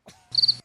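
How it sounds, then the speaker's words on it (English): A short cricket chirp sound effect, a brief high trill after a faint lead-in, heard alone and close. "Yeah, crickets."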